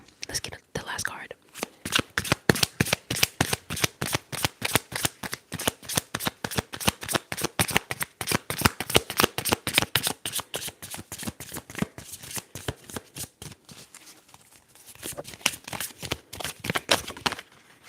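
Tarot cards shuffled up close in a quiet ASMR setting, a long run of rapid crisp riffling snaps with brief pauses and a softer patch near the end, no talking.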